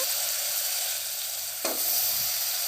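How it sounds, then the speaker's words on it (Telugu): Goat head meat is added to a pan of fried spices and sizzles steadily, with a sharp hiss of fresh contact partway through, heard close with no voices. "ఇదిగో ఈ విధంగా వేయించిన తర్వాత తలకాయ కూర వేద్దామండి."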